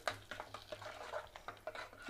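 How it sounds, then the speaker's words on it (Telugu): A spoon stirs mango and tomato dal in a cooking pot, making soft scraping sounds and a few light metallic clinks. The stirring comes in short, repeated strokes at a low volume. "ఇదంతా బాగా కలుపుకోవాలి"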